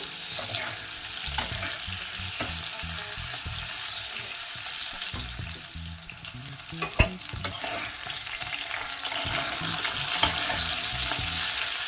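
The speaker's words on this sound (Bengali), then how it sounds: "কলা আর আলু আমি আরেকটু ভাজা ভাজা করে নেব।" Green banana and potato pieces frying in a pan for a Bengali curry, a steady sizzle with repeated scraping and stirring strokes of a spatula, one sharper clack near the middle, no talk.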